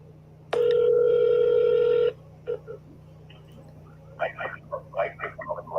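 A phone call being placed: a steady, loud ringback tone holds for about a second and a half, then brief clicks follow and a person talks close by.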